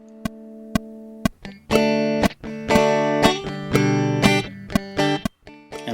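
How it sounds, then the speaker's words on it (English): An electric guitar played through a virtual amp with reverb: isolated plucked notes ring out, then a run of strummed chords with sharp attacks and decaying tails, clean and alone. "So I'm playing through a virtual guitar amp with some reverb."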